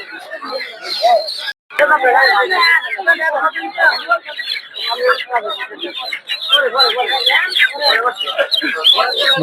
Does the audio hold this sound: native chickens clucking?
yes